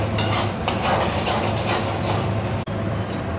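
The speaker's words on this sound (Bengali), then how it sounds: "এবার মশলাটা ভালো করে কষিয়ে নেব।" A spice paste with chili powder for Bengali rohu fish curry is stirred and sautéed in a pan, with continuous loud, close scraping and sizzling and one brief cut near the end.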